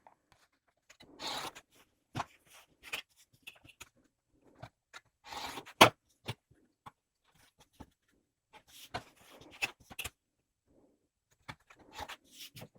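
Scissors cutting strips from fabric scraps for bag binding, a sparse series of short crisp snips and rustles, close and quiet against near silence.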